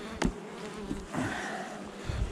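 Honeybees buzzing around a hive, close and fairly faint, with several individual bees flying past the microphone in short passes.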